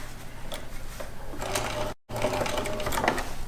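A sewing machine stitches a zipper bag seam with a steady, close mechanical whir, stopping briefly for a pivot at the corner before running again.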